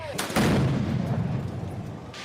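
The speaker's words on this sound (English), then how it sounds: "their regular firecrackers and mortar-style fireworks" Loud, sharp firecracker and mortar-style firework blasts during nighttime protests in Los Angeles, a burst of bangs followed by a booming rumble that fades out.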